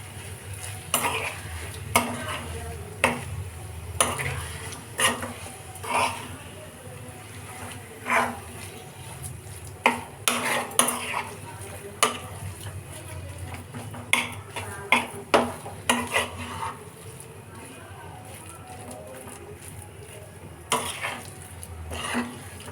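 A spoon scrapes and clatters as grated potato is stirred in a metal frying pan, with a soft sizzle underneath and repeated close knocks against the pan.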